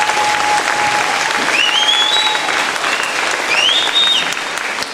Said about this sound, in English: I think they deserve a very good applause for that